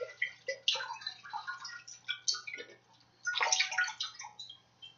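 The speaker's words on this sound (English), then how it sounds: "add the chicken broth. The whole thing. Don't dilute it or anything. Just pour it all in there." Chicken broth is poured in one go from a carton into a pot of onions for chicken noodle soup, a close, gurgling splash in uneven glugs that pauses briefly and then surges again.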